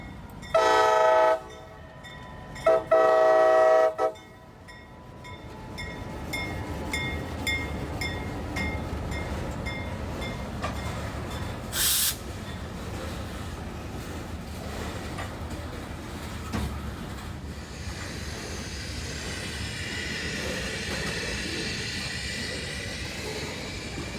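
A train horn blasts twice near the start, then a heavy rumbling local freight train rolls steadily past a switch in Central Florida with clanking wheels and a squealing screech later on.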